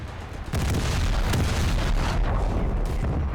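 Scharnhorst battleship's 11-inch shells firing in War Thunder naval combat, a loud booming blast that swells into a sustained rumbling roar of gunfire and explosions, with a few sharper cracks, no voices.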